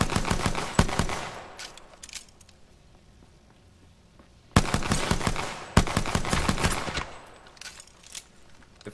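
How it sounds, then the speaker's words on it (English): Rapid automatic gunfire from Apex Legends, loud bursts of shots in the first two seconds, a lull, then renewed heavy firing from about 4.5 seconds onward. "I was shooting at him."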